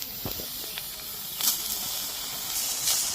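Dried small shrimp frying in hot oil give off a continuous close sizzle and hiss with a few sharp pops and bursts of spatter.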